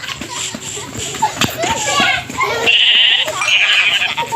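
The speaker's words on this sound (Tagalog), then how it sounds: "Yun guys, may tupa isa." Sheep bleat nearby, including a baby lamb, with several short bleats mixed in among close chatter and children's voices in a noisy outdoor setting.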